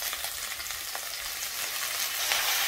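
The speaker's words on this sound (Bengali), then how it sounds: "ভালো করে নেড়ে চেড়ে ভেজে নেব।" Pumpkin flowers stir-fried with small mourala fish in a pan: a bright, constant hiss of frying oil with scattered pops and a soft scrape of stirring, close and uninterrupted.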